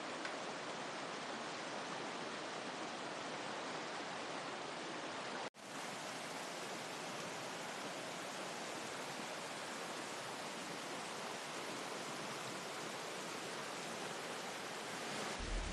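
A river near Cimande, Bogor, rushes below a bridge in a steady broadband roar with no pauses apart from one momentary cut.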